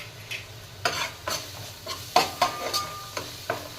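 Asafoetida, turmeric, chilli powder and misal pav masala frying in a pan while a spoon stirs them, a series of close, irregular scraping strokes over a low, continuous sizzle.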